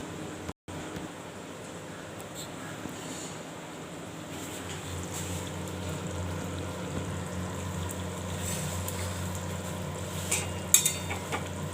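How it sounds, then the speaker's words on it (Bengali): A poppy-seed and mustard dish being stirred in a pan, a steady low sizzle and scraping texture running continuously at close range, with a few brief clicks and no talk. "এবার একটু নেড়ে দেবো।"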